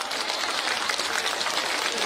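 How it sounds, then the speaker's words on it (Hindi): Audience applause at a Jhuggi Samman Yatra political gathering in Delhi, a dense continuous roar of many hands clapping, loud and sustained throughout the short stretch. "तालियां बजती रहनी चाहिए साथियों"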